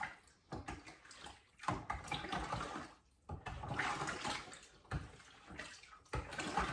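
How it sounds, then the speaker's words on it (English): A sterilised spoon stirs redcurrant wine must in a fermenting vessel, with sloshing, swirling liquid that comes in repeated surges and short pauses, close and fairly soft. "let's give this a good stir"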